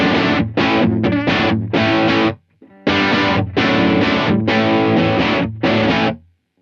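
Electric guitar played through a Blackstar Dept. 10 Dual Drive pedal with reverb, heavily distorted chords struck in loud sustained bursts with a brief pause midway and a trailing ring at the end.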